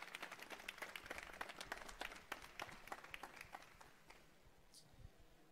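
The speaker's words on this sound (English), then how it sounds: "huge round of applause for our first presentation at the Mobility Challenge" Audience at a startup pitch competition applauding, scattered individual claps that are fairly faint and thin out over a few seconds.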